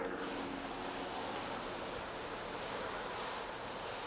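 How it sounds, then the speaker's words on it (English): Water from a hose rinsing a car panel coated with Gyeon CanCoat Evo ceramic sealant, a steady close, loud wash of spray noise running unbroken and evenly throughout with no voices. "Rinse this off, see how it's doing."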